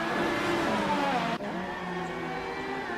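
A race car in a Formula 1 racing game at the Italian Grand Prix drones past at high revs, its steady engine note dropping in pitch with an abrupt cut partway through, loud and with no voices.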